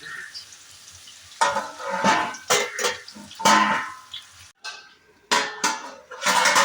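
A lid is set onto a cooking pot of vegetable curry after stirring, preceded by loud close clanks and scrapes of utensils against the pot, then a final metallic clatter as the cover goes on.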